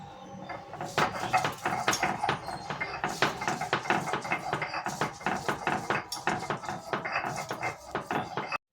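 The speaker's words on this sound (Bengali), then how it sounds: "এবার কিন্তু আমি শিলে সব মশলাগুলো আস্তে আস্তে করে নেব। প্রথমে বেটে নেব পেঁয়াজ।" Onion being ground into paste on a flat grinding stone, heard as a steady run of rapid scraping, knocking strokes of the stone roller, loud and close, with no talking.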